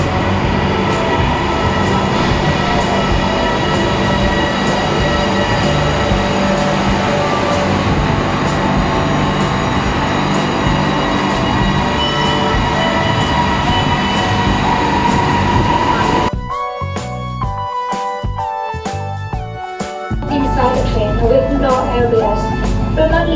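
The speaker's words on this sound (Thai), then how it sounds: "ตอนนี้รถไฟฟ้ากำลังเข้าสู่ชาชาลาครับ" A metro train rumbles and screeches loudly as it pulls into a station platform on the Lat Krabang–Rama 9 line, wheels squealing, then brakes and settles with clanks and a station chime.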